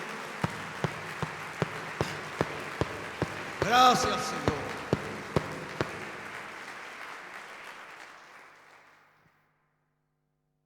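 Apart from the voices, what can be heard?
congregation applauding in church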